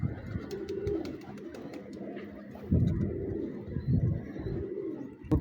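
Pigeons coo in soft, repeated throaty phrases close by, with light rustling and flutters between the calls.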